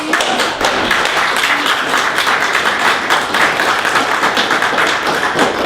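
Church congregation giving a loud round of applause, dense sustained clapping with sharp taps and thuds throughout, close and energetic with no clear talk.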